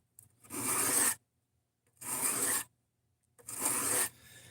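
A cheap knife is drawn across a sharpening stone in three separate, evenly spaced rasping strokes, quiet and close, with silence between them.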